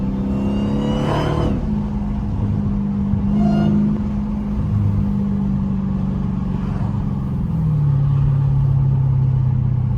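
A Dodge Hellcat drives from the cabin, its engine a steady deep rumble with rising whine sweeps as it accelerates, two sharp rev surges early, then sustained cruising hum, loud and close.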